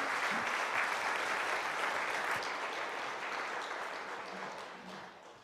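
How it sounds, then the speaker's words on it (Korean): A church congregation applauds their pastor at a Sunday worship service, a dense, sustained wash of clapping that fills the room from start to finish and tapers slightly toward the end. "다시 한번 우리 목사님 박수로 모십시다."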